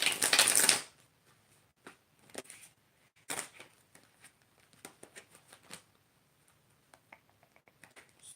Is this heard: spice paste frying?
no